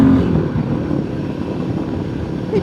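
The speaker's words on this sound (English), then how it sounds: "People say this bike's not good at accelerating, but I don't agree with that. This is the Royal Enfield Himalayan 450." A Royal Enfield Himalayan 450 motorcycle accelerates on a road, its engine a dense, close drone, with wind rushing past the rider.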